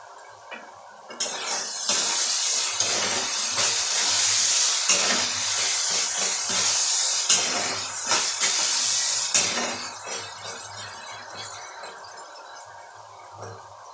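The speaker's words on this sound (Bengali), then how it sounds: "আলু ভাজা ভাজা হয়ে গেছে" Potatoes with a little turmeric fry in a pan for a pasta dish, giving a steady, close sizzling hiss that swells and dips with occasional stirring scrapes throughout.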